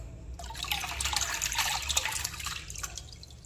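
Water splashes and pours steadily as guppy fish are tipped back into a pond, a close, continuous wet sloshing that lasts a few seconds and then eases off.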